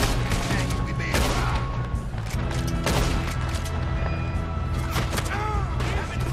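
Dense, constant gunfire during a train robbery shootout in Red Dead Redemption 2, overlapping shots and booms forming a loud, unbroken wall of sound with game effects layered throughout.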